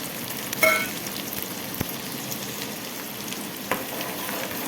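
Garlic cloves and cumin seeds frying in hot oil in a village kitchen, giving a steady soft sizzle with occasional pops and crackles, close and alone without talk.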